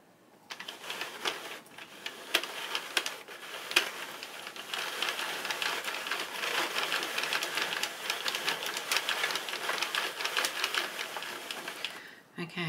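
A Sentro 32-needle knitting machine is cranked by hand at middle tension, giving a busy run of close plastic clicks and clatter that builds after a quiet start and carries on nearly unbroken to the end.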